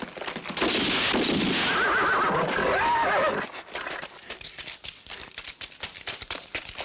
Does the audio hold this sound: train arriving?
no